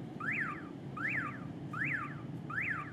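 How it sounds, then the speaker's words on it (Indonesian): A faulty, short-circuiting car alarm sounds, repeating a rising-and-falling electronic whoop four times at a steady pace, loud and close over a low rumbling background with no talking. "alarm mobil gue emang suka gini, lagi rusak suka korslet"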